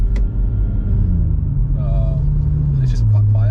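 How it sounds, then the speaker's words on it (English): Deep, steady exhaust drone from a Stage 2+ tuned BMW M140i in sport mode, a continuous low rumble throughout with a slight rise in pitch near the end while a person talks over it. "You can still hear the exhaust, though"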